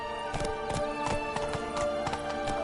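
Hooves clip-clop at a steady trotting rhythm from a horse in The Witcher 3: Wild Hunt, a regular series of crisp hoof strikes over a continuous backdrop of game music and ambience.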